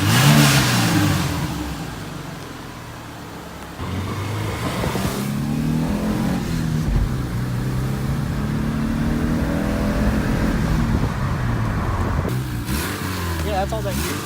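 A 2001 Subaru Outback Sport with its catalytic converter and muffler deleted revs repeatedly, its loud raw exhaust rising and falling in several swells, with people talking over it.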